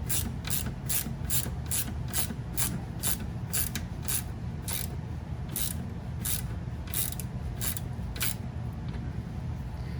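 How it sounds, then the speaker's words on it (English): A ratchet wrench tightens the caliper bolts on a Toyota during a brake pad and caliper replacement, its rapid pawl clicks coming in steady bursts close to the mic over a constant low background hum. "I'm just going to go ahead and tighten these on"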